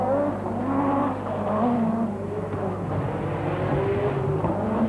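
Tony Pond's turbocharged and supercharged Lancia rally car four-wheel drifting around a right-hander in the 1985 RAC Rally, engine revs rising and falling with loud tyre scrabble, close and continuous.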